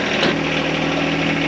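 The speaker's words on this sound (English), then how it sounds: "So let's get a little tractor." A small tractor engine runs at a steady, loud idle close by, with an even droning hum and a slight buzzing vibration throughout, without any talk.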